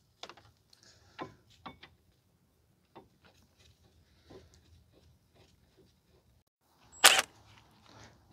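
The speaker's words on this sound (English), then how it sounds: "Tighten up the bolts." A ratchet tightens the brake caliper bracket bolts on a 2010 Subaru Outback 3.6 during a front brake job, with sparse short clicking bursts and one louder metallic clack near the end, close and alone.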